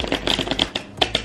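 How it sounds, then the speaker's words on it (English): A deck of tarot cards being shuffled by hand makes a quick run of crisp, clicky riffling taps, uneven in rhythm, close and fairly loud with brief gaps. "you just shuffle the cards and then you pick the top one off"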